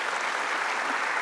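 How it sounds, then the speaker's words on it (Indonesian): Studio audience applause on an Indonesian talk show: a steady, dense wash of clapping that holds evenly through the short stretch, with no voices over it. "Oke, kita kasih tepuk tangan dong untuk Bang Hotman"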